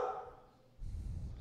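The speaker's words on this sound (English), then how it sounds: "my dog's barking" A household dog barks a few times, close and fairly loud, the short burst of barks following a quieter moment with a faint voice.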